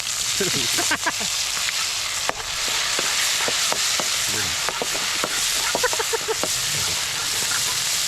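Food sizzles and crackles loudly in a hot pan, with scraping and clinking as it is stirred and tossed throughout.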